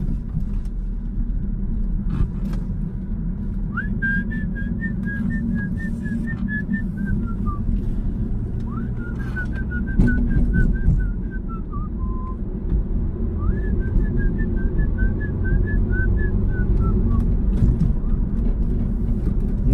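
A person whistles a show tune from a musical in three clear melodic phrases, each rising then trailing downward, over a steady low rumble of car engine noise.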